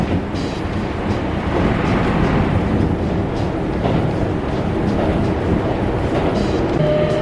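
Steady rumble and rattle inside a moving train carriage in Kyoto, Japan, continuous and fairly loud, with faint clicks of the wheels and no speech.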